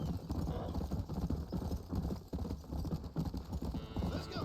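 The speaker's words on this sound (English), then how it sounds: "Yo tengo el mejor caballo." Horse hooves clip-clop in the Red Dead Redemption video game on PC. A dense, steady, galloping rhythm of hoofbeats runs loud and continuous throughout, with several horses riding together.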